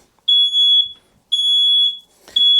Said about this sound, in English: I guess the dust has set off the alarm.